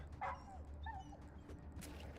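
A dog in the video game ATOM RPG gives short, high, whimpering yelps of pain, two quick cries fairly faint over a low background hum.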